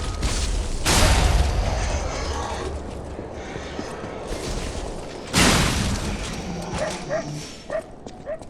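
Dogs in the video game Lies of P bark repeatedly, loud and close, with sharp yips and whimpers mixed in. Heavy impact booms and mechanical clatter sound between the barks.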